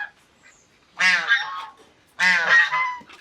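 Geese let out with ducks at an animal farm give two loud, close, nasal honks, separated by a short pause of quiet.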